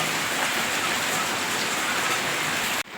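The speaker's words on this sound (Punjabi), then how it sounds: "ਕਿੰਨਾ ਜ਼ਿਆਦਾ ਮੀਂਹ ਪੈ ਰਿਹਾ" Heavy midday rain pours down in a dense, steady hiss of drops on surfaces, loud and close, with no voices, cutting off abruptly near the end.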